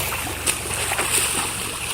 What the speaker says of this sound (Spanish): arrojarse al mar